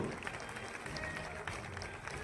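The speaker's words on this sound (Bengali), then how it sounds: "সকলে মিলে করতালি উৎসাহিত করুন" Audience clapping at a Police Day ceremony honouring police equestrian championship medal winners, a steady patter of many hands filling the whole stretch at moderate loudness with a faint hint of voices beneath.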